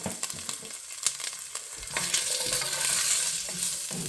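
Potatoes frying in hot oil for Southern fried cabbage and kielbasa, stirred with a utensil: scraping stirs over a steady sizzle that swells louder and more continuous partway through, close up with no talking.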